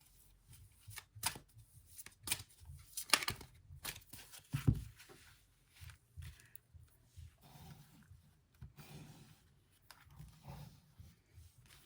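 Tarot cards are shuffled in uneven bursts of riffling and slapping, with sharp flicks and short pauses between handfuls, close and fairly quiet.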